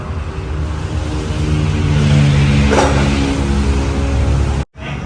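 A Ford Raptor pickup truck engine revs up close, rising and holding a loud, throaty drone before cutting off abruptly, then resuming.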